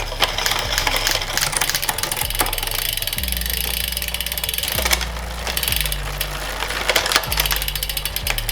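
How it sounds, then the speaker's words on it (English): A road bike's gears are shifted and checked, a fast ratcheting freewheel clicking continuously up close as the chain steps through the cogs with periodic clunks of each gear change. "let's just check we're all good with the gears"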